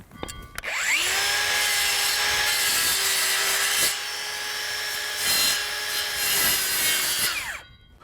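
Circular saw cutting through a piece of timber: a steady high whine runs for about seven seconds as the blade bites the wood, spinning up at the start and winding down at the end, loud and close with no talk.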